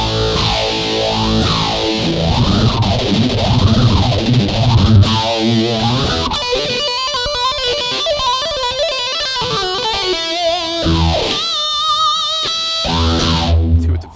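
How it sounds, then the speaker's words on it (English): Guitar played through the phaser effect of an Ammoon Pockrock processor, sustained distorted chords with a sweeping, whooshing phase modulation, followed by a picked melodic passage, loud and close with no talk. "See what the phaser sounds like clean."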